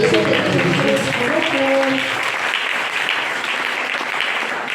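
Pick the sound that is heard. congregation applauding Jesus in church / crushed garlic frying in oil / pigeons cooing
congregation applauding Jesus in church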